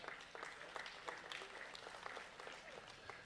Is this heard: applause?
yes